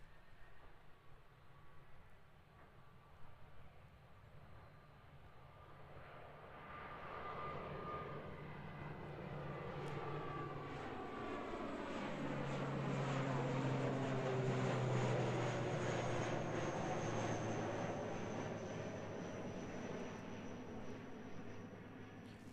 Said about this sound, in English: ATR coming at us.